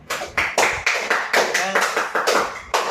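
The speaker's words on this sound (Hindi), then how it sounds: "तालियां बजाओ सभी इसके लिए जल्दी से" A classroom of students applauds a classmate for a story they wrote, the claps arriving as a series of quick, close bursts with short pauses between them, and a voice briefly overlapping.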